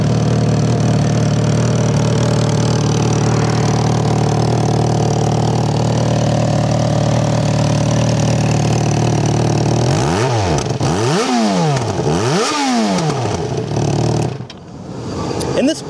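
A Yamaha FZ6 motorcycle engine idles smoothly and steadily up close, then revs up and down in several quick rising and falling bursts before settling and cutting off.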